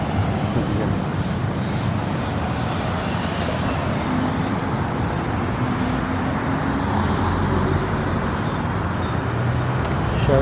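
Steady road traffic rumbles along the Sharjah Corniche in the UAE, a continuous, fairly loud wash of passing cars with a low engine drone throughout and no voices.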